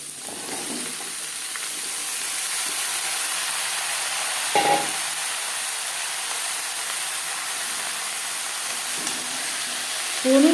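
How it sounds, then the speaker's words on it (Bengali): Chopped bottle gourd goes into a pan of oil with fried cumin and dry chilli, giving a steady soft sizzle with a brief louder hiss and occasional stirring clatter. "জিরে শুকনো লঙ্কা ভেজে নেওয়ার পর দিয়ে দেবো লাউ।"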